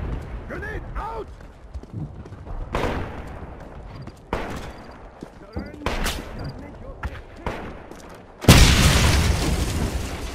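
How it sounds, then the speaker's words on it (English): Grenade explosions and gunfire in a Wolfenstein shooter game, several heavy booms and bursts in sequence ending with a loud blast, with game voices around them. "Grenade out!"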